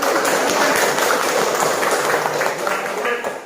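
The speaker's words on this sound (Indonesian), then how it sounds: "kita berikan tepuk tangan untuk kawan kita yang menampilkan" A classroom of students claps for a group that has just presented, a dense, even patter of applause that holds steady throughout with no voices.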